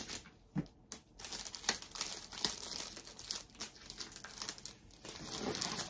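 Cellophane wrap on a gift basket crinkles loudly and continuously up close, with tearing and crumpling bursts as the plastic is pushed and tucked in with tape.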